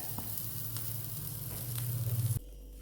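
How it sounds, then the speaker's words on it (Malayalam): Sardines fry in a pan with a close, steady crackling sizzle that grows slightly denser before cutting off abruptly, leaving a low hum. "മീൻ നല്ലതായിട്ട് ഫ്രൈ ആയിട്ടുണ്ട്"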